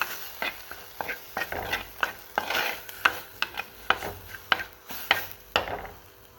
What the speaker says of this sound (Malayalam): മുളക് പൊടി ഇട്ട് നമ്മൾ ഉപ്പ് ഇതുവരെ ഇട്ടിട്ടില്ല, ഇതൊന്നും കൂടി ഒന്ന് വഴറ്റി കൊടുക്കാം.